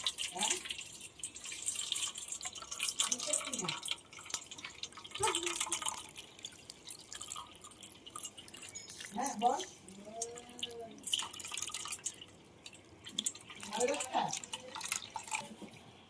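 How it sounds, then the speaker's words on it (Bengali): Raw mangoes are rinsed under cold running water in a kitchen sink, with intermittent splashing and dripping bursts that come and go between stretches of quieter sound, alongside a nearby voice. "এবার আমি ঠান্ডা জল দিয়ে ভালো করে ধুয়ে নেব।"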